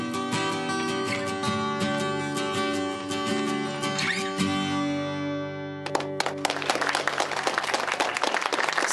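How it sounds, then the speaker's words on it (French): Audience applause for Maggie and Riley breaks out as sustained music cuts off, a dense burst of many hands clapping that stays loud and continuous to the end. "On applaudit Maggie et Riley bien fort."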